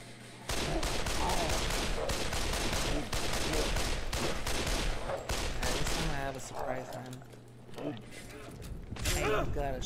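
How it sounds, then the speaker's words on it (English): Shotgun blasts and gunfire from the video game Shellshock 2: Blood Trails, a dense run of loud, rapid shots with mechanical clacks, easing around the middle and then flaring up again near the end. "shotgun this time"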